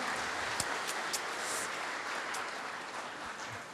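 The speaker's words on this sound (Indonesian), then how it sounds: "Waduh, tepuk tangan untuk kita semua." Applause from an audience at an evening Buddhist gathering with Bhante Uttamo Mahathera, a steady, fairly distant wash of clapping that carries on evenly throughout with no voices on top.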